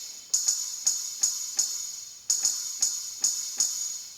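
A bright metallic ride cymbal taps in a steady repeating pattern within a music track, each hit shimmering briefly before the next, with no voices.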